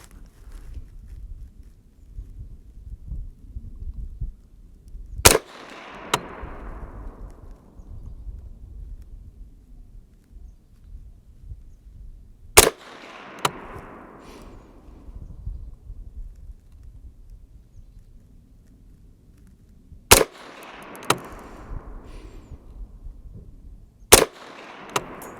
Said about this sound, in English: let's see if I can do my part and shoot a good group at 100 yards.